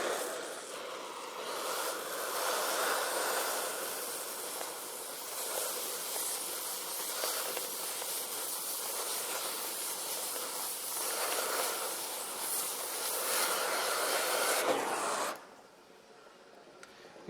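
A DHC2000 oxy-fuel welding and cutting torch slicing metal on a trade show floor produces a steady, loud hiss. The rushing roar holds for about fifteen seconds, then cuts off sharply, leaving quieter room noise.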